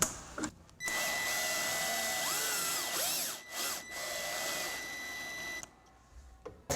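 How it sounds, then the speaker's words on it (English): A power drill bores screw holes in a metal door frame while a door strike is installed, running loud and continuous for nearly five seconds with a brief dip in speed midway, then cutting off. "I think I'm going to use the power drill for the rest of this."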